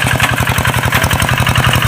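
A tractor engine works a cassava field, chugging loudly and close in a fast, even rhythm with a steady throb and no pauses.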